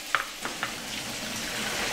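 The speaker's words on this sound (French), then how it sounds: "On va mettre à cuire les oignons" Onions cook in a pan for tartiflette, a soft, fairly faint sizzle with a few light clicks of a utensil near the start, no one speaking.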